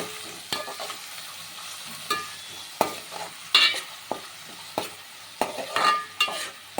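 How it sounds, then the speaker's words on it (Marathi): Finely chopped onion and tomato fry in oil while a spatula stirs and scrapes the pan in irregular knocks over a quiet, steady sizzle, close by. "कांदा आणि टमाटर छान तेलामध्ये भाजून घ्यायचं आहे"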